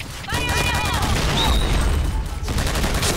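An L86 LSW light machine gun fires in Point Blank, a rapid, dense stream of loud shots that runs nearly unbroken for the whole span, with ringing game effects layered over it.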